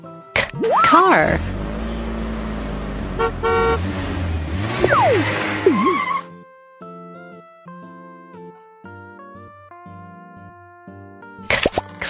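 Cartoon car sound effects in a children's alphabet lesson: a loud burst of engine and honking horn tones with swooping pitches for about six seconds, followed by a light melodic jingle.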